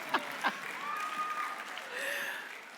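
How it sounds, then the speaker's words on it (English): Applause from a quiz-show audience for the contestants, a couple of sharp claps rising into a steady, moderately loud patter of many hands that carries on for a few seconds. "Another round of applause for all of our contestants"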